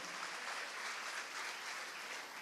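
A church congregation breaks into sustained applause, an even wash of clapping that holds steady throughout, heard from a distance without any voices on top.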